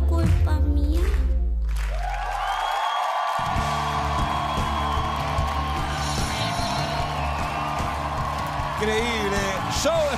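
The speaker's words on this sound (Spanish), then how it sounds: "¡Un aplauso para Guagua!" Studio audience applauding and cheering after a song performance on the TV singing show ¿Quién es la Máscara?, a dense sustained roar of clapping and whoops following the music's end, with a host's voice over it.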